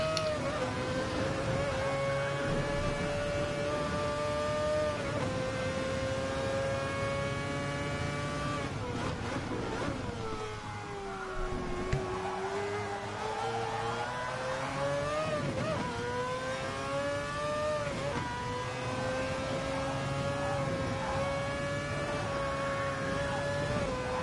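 A loud, raw race car engine from the GT Sport racing game screams steadily through the whole stretch, its pitch dipping under braking and climbing again through the gears, with no talk.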